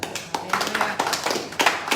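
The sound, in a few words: congregation clapping hands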